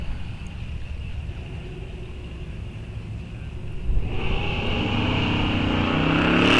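Drag racing at Rock Falls Raceway, a 1965 Ford lined up against a Plymouth Fury: low engine rumble idles, then swells sharply into a loud, rising roar as the cars launch.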